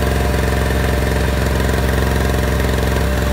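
A small Harbor Freight portable generator running close by, its engine holding a loud, steady, even drone with a rapid regular pulse and no change in speed.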